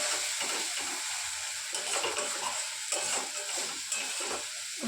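Ground masala paste of cumin, coriander and fennel frying in hot oil for a chicken dish, with a steady close sizzle and hiss broken by soft scraping strokes as the spices are stirred.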